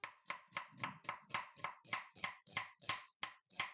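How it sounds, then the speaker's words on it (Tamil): Rapid, even knife chops finely mincing ginger against a board, about three strokes a second, close and crisp with no talking. "இஞ்சியை ரொம்ப சின்னதாக குறுக நறுக்கிக்குங்க."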